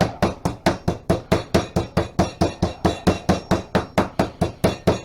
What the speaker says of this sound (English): I just use an actual tenderizer that's got the teeth on it and start making a lot of noise.